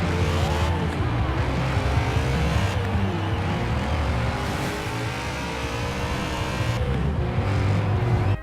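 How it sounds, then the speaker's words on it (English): BMW M3 GTR with a V8 engine in Forza Horizon 4, droning loudly and steadily throughout with rising and falling revs as it shifts through gears, close and continuous with no talking. "It just sounds like every other BMW V8 in this game, pretty much."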